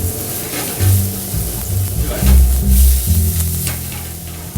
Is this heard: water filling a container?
no